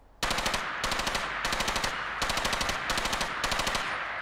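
Automatic weapon fire in Fallout 4 crackles in rapid sustained bursts, six tightly spaced volleys rattling out one after another, loud and continuous with no talk over it.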